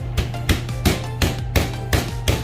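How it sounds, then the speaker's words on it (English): Steady, repeated dull thuds of the flat side of a meat mallet pounding pork tenderloin on a board, about three blows per second, close and fairly loud. "make sure you're not hammering in one spot, because then you'll put a hole in the pork"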